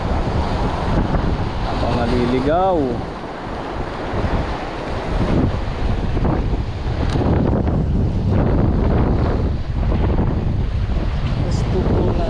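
Strong wind roars across a boat at sea, buffeting the microphone with a loud, steady rush and wave noise, while someone speaks briefly over it.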